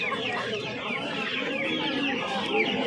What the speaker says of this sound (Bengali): এই খাঁচাটার মধ্যে দেখতে পাচ্ছ দেশি আর সোনালী মুরগি প্রচুর রয়েছে